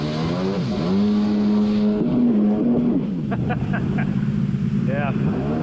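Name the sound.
Yamaha Waveblaster 2 personal watercraft engine while riding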